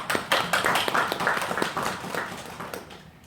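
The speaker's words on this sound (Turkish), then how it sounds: "Onun için öncelikle ben sizi alkışlıyorum." Several people clap in a brief burst of applause, sharp overlapping claps that taper off toward the end.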